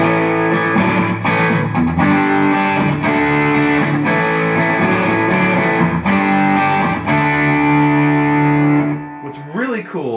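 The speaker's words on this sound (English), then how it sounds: "what's interesting about the SD1 is if you want to bring the level down and kick up the drive, you can run it through the clean channel" Electric guitar played through a Boss SD-1 overdrive pedal on an amp's clean channel with the drive turned up, with reverb and digital delay, giving sustained, mildly distorted chords and notes throughout before fading at the end.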